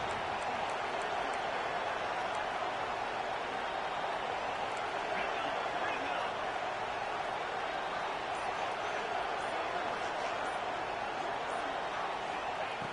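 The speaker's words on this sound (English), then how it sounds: "this home crowd is fired up and ready to make a difference" A home stadium crowd roars in College Football 26 during an Iowa game, a dense, steady wash of cheering and noise lasting throughout, with commentary voices partly mixed in.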